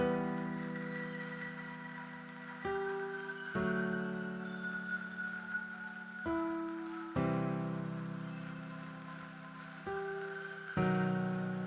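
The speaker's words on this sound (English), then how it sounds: "we also can change this into a unique bell sound" Tuned, bell-like tones made from a noise sample, struck one after another, each ringing with a shimmering sustain before the next note changes pitch; quiet and with no talking.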